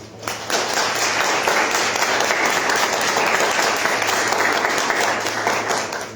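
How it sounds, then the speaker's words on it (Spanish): Full audience applause welcoming an architect to a book presentation, dense steady clapping that starts abruptly and holds loud for several seconds with no talk. "Les pido un aplauso"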